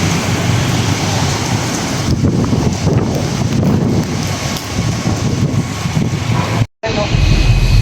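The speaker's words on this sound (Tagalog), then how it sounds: "Biglang lumakas yung hangin." Strong typhoon wind roars and buffets the microphone in a steady broadband rush, with a brief dropout near the end before the gusting resumes.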